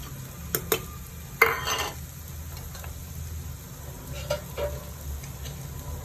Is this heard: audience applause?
no